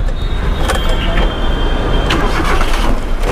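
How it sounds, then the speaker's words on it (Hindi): A 2000-model MPFI petrol car, a Euro 2 hatch, cranks and fires up on a half-pressed starter, loud and close, then settles into a rough idle. "एक ये में स्टार्ट होता है हाफ सेल्फ, हाफ सेल्फ में स्टार्ट है गाड़ी"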